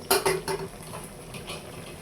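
A spoon stirs a curry of taro stolon and snakehead fish head in a metal pot after coriander leaves go in, giving a few sharp clinks at the start and then softer scraping, no voices.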